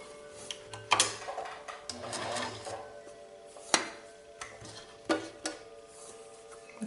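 An electric needle felting embellisher machine punches wool with a steady mechanical chatter, running in short stretches with sharp clicks and knocks between them, close and fairly quiet.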